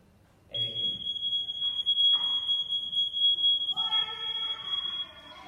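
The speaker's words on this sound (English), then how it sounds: "Smoke alarm, smoke detector, right? Everybody knows what this sounds like?" A smoke detector alarm played for children at a fire department fire prevention program sounds a continuous piercing high tone, loud and steady, with people talking underneath.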